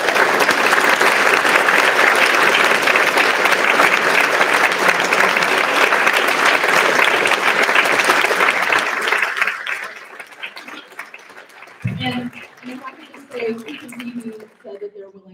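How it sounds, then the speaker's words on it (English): Broad, heavy audience applause at a conversation event fills the first nine seconds, then thins into scattered claps, chuckles and murmuring voices as the room settles. "So could we have a round of applause?"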